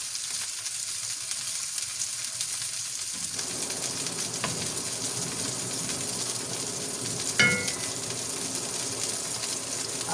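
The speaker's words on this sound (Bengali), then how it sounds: "এখন পেস্টটাকে আমি ভালো করে ভেজে নেবো" Paste for a thin fish curry frying in hot oil, a steady, close sizzle that runs the whole time, with one brief clink of a utensil partway through.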